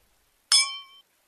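Two wine glasses meet once in a toast, one bright clink that rings for about half a second and fades cleanly into silence.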